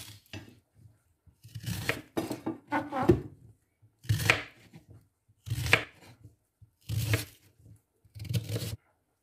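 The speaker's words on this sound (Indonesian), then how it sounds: "Kita akan potong asparagus kita menurut." Asparagus spears cut with a knife on a board, giving repeated short bursts of chopping in uneven clusters, fairly close and clear with quiet gaps between strokes.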